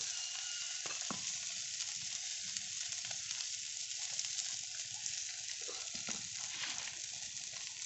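Chilli powder, turmeric and Kashmiri chilli powder fry in hot oil in a pan while a crab curry is cooked. A steady, dense sizzle holds throughout at a low level, with a few soft stirring knocks and no talking.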